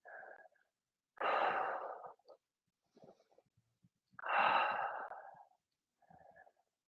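Two long, deep, close breaths, each a slow airy rush with a short catch of air around it, taken during a yoga stretch in a routine for runners and athletes.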